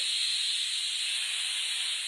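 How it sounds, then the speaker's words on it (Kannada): A steady, sharp hiss of escaping steam runs continuously at even loudness, like pressure venting from a cooker. "ಗಾಳಿ ಸೀಟ್ ಹೊಡ್ಯಾಕ್ತೈತೆ ಕುಕ್ಕರ್."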